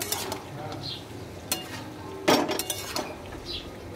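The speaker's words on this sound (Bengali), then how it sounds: "এইভাবে নাড়াচাড়া করবো" A spoon stirs chicken gravy in a pan, with faint sizzling and intermittent scraping and clinking of utensil against metal, fairly quiet with brief louder scrapes and no talk.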